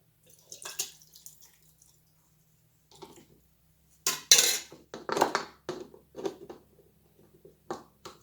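A spoon scoops out of jars in scattered, brief clinks and scrapes, mostly quiet with bursts of louder metallic rattling near the middle of the stretch.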